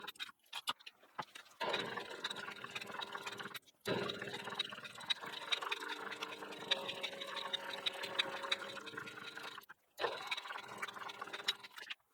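A sewing machine stitching a raw-edge fabric appliqué leaf on a fall pumpkin quilt block: close, rapid mechanical whirring in bursts of several seconds, separated by brief pauses as the fabric is turned.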